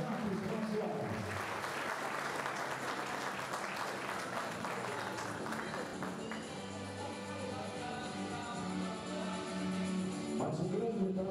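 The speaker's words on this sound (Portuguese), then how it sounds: "Uma salva de palmas para Ronaldo Fraga" An audience claps during a sports memory honors ceremony, a sustained wash of applause filling the space for several seconds, with a voice and some music-like tones rising beneath it toward the end.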